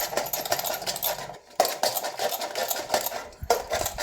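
Vada being grated for a milk-based recipe gives a steady, close scratching rasp with fine gritty strokes, broken by a short pause midway and quieter than a clatter.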